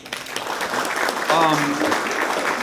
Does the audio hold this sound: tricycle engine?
no